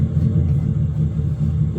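A rally car in a racing simulator game sends a deep, continuous rumble through the rig's chassis, a steady low throb with slight pulsing and no talk over it.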